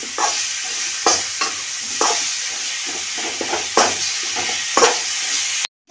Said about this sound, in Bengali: ভালো করে এবার সবজিটা কষিয়ে নিচ্ছি।